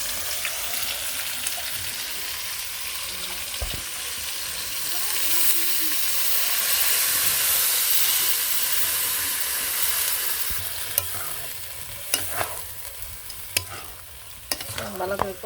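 Spices with green chillies fry in a pan over a clay village stove as they are stirred, a loud, continuous sizzle with scraping strokes and clicks, rising and falling, and faint talk at times.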